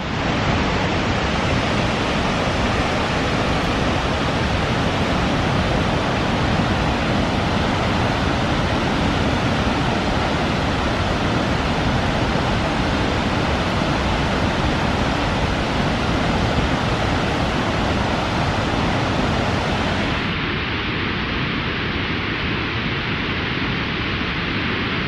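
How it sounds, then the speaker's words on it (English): A powerful Icelandic waterfall roars as a dense, unbroken rush of water, loud and close, holding steady for the full length with a slight change in tone near the end. "I'm going to let the waterfall do the talking."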